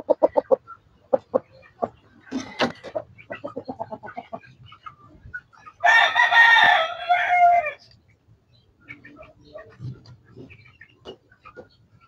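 A broodcock rooster from Gapan, Nueva Ecija crows loudly once, close by, amid scattered clucks and short bird calls before and after.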